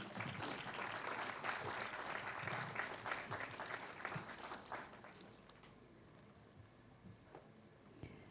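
An audience at a school education awards ceremony claps for a special jury recognition, loud and dense for about five seconds, then thinning to scattered, fainter claps toward the end.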